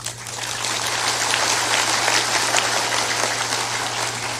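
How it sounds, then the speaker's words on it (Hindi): Audience applause at a Hindi religious discourse (pravachan), a dense, sustained burst of clapping from a large crowd that fills the whole stretch at a steady loud level. "थोड़ा जोरदार ताली बजाया करो"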